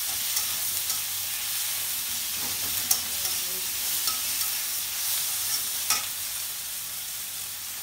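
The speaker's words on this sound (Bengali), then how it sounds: "একটু কয়েক টুকরা দিয়ে দিলাম টমেটো কুচি।" Chopped tomato added to fried onion in a pan for curry, sizzling steadily up close while a utensil stirs and scrapes the pan in irregular strokes, no talking.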